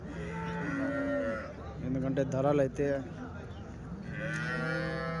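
Cows moo repeatedly at a weekly Sunday cattle market in Chintamani, long low calls rising and falling across the scene while someone speaks over the herd.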